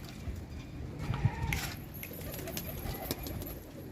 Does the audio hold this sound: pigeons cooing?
yes